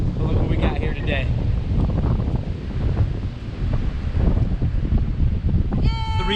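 Strong wind blasts across the microphone on a mountain trail, a loud, continuous rumbling roar with gusty surges, and a voice briefly breaks through at the end.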